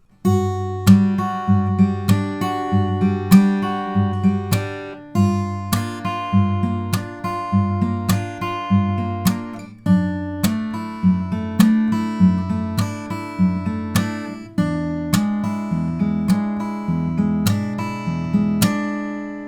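A solo guitar fingerpicks a flowing pre-chorus passage, plucked notes and chords with bright attacks, played alone and close for nearly twenty seconds.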